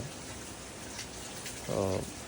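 Rain falls outdoors in Japan as a soft, steady patter, with a brief voice rising over it near the end.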